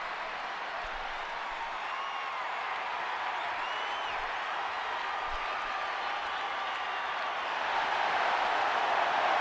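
Stadium crowd at a Grand Tour Wrestling event in Tampa Bay Stadium, a dense, steady roar of cheering and shouting from a large audience, heard at a distance and swelling louder toward the end.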